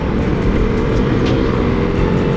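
A first-generation KTM Duke 390 motorcycle engine runs steadily at half throttle while riding, its drone blended with heavy wind rush, loud and continuous with no voice.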